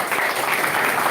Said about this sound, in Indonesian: Jadi tepuk tangan dulu semuanya.